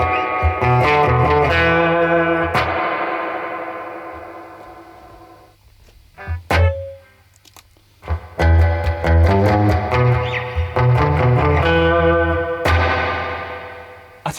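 Electric guitar through an amp with a built-in spring reverb, the reverb switched on then off; strummed chords ring with splashy, echoing tails, then a short quiet gap before drier, choppier playing resumes.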